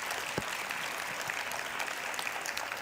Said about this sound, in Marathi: आता जोरदार टाळ्या हव्यात